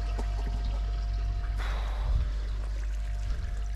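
Water pouring from a koi pond filtration shower, a steady close trickle and splash that grows briefly stronger midway, over a low constant pump hum.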